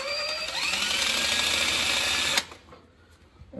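A power drill fitted with a brand-new bit bores into a Jeep Cherokee XJ slip yoke eliminator part, whining loud and close with a high rising pitch for over two seconds before cutting off abruptly.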